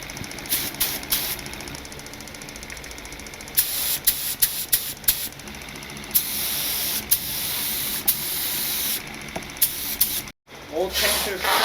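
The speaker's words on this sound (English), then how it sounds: "I just put some acetone in my paint cup. I'm going to spray it outside right here" A cheap Harbor Freight HVLP spray gun sprays acetone, hissing loudly and steadily in bursts, with short pauses between blasts, close by and outdoors.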